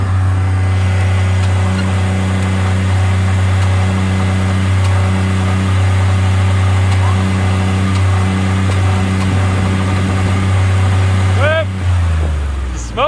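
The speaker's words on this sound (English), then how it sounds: "Rev up the old EcoBoost Platinum here." An old Ford EcoBoost Platinum truck engine, later smoking, holds a loud, steady low drone with a slight rise in pitch near the end before it drops off, while voices talk faintly over it.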